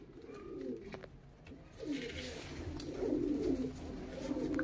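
Pigeons coo in soft, repeated low calls at a bird seller's loft in Meerut, close by and steady over a faint background hum.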